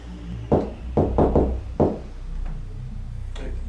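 Several sharp knocks at a reported haunted house in New York: a quick cluster of five hard raps, close together and loud, with a fainter tap near the end over low room hum.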